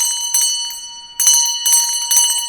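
A bell rings during a Buddhist memorial rite, with three bright metallic strikes whose tones linger and fade between hits, clear and close.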